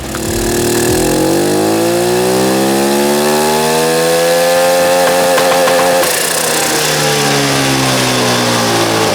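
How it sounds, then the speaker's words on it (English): A 150cc turbocharged go-kart engine on a power run, heard as a loud, close, continuous high-pitched engine note that climbs steadily in pitch as it revs up, with no talk over it. "So stand by for the first power run with the 150cc turbo motor."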